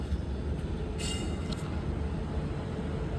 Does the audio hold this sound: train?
yes